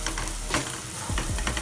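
Chopped onion fries with turmeric and asafoetida in a pan, giving a loud continuous sizzle broken by a few scraping stirs.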